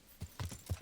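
Hooves clip-clop in Kingdom Come Deliverance as a horse is mounted, three or four soft, low thuds in quick succession over a quiet background.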